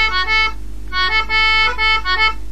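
English concertina playing the reel The Silver Spear, a quick reedy melody with short bouncy notes and grace-note ornaments over a steady low hum, close and loud with no talking.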